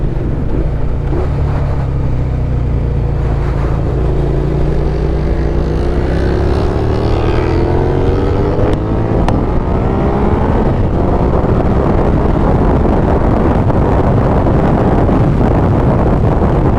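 A Suzuki SV650S motorcycle engine drones loudly and rises in pitch as it revs up through the gears while riding, with heavy wind rushing across the microphone.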